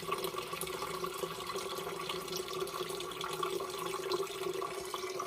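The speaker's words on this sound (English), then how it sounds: "We've got a bunch of water draining really nice now out of our system." Steady rush of water draining from a drain trap, a continuous gurgling flow close by with no voices.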